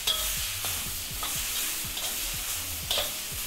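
Thinly sliced carrots sautéing in a pan, a light steady sizzle with repeated scraping stir strokes and a few clinks, no talk.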